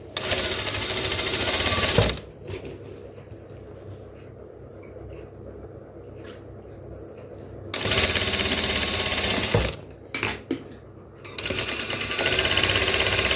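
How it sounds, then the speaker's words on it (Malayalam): A sewing machine stitches the neck lining of a crop top in close, loud bursts of rapid mechanical chatter, broken by quieter pauses between runs of stitching, with no talking. "നെക്ക് അതുപോലെ നമ്മൾ സ്റ്റിച്ച് ചെയ്തെടുക്കുവാണ്"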